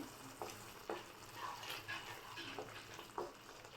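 Egg tikka masala paste cooking in oil in a pan, with the spices cooked down until the oil separates. A faint, steady sizzle sits under soft, intermittent stirring scrapes spaced about a second apart.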